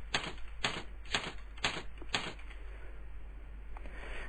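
A few quick, separate clicks of keys being pressed on a computer keyboard while text is typed into a table cell, in a short burst of about five crisp strokes, then quiet room hum.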